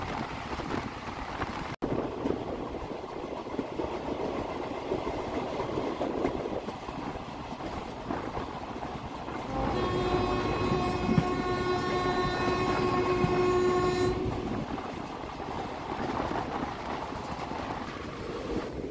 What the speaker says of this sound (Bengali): সুবর্ণমৃগী স্কিপ করে ট্রেন ঢুকছে আমাদের 10 নম্বর হল্ট ভগবান গোলা